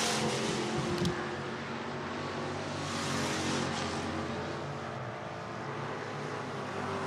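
Pure stock race cars run hot laps at All-Tech Raceway in Lake City, Florida, engines droning steadily at a distance, with one car swelling louder as it passes before the roar settles back to a continuous hum.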